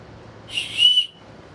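An emergency attack whistle from an emergency kit gives one loud, shrill, piercing blast of about half a second. It sounds close and alone against a quiet room.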